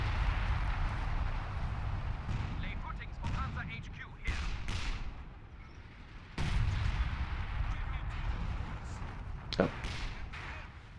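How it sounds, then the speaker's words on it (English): Artillery booms and sharp gunfire cracks in a WWII strategy video game set around the Battle for Caen, rising and falling in loud bursts under steady commentary from a voice talking throughout. "now they're throwing down artillery here"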